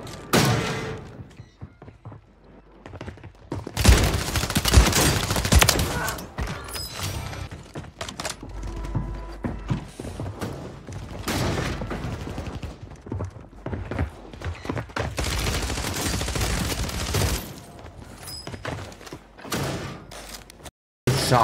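Shotgun blasts in the shooter game Warzone 3, several sharp loud bangs and thumps scattered irregularly through busy gameplay noise, with some talk in between.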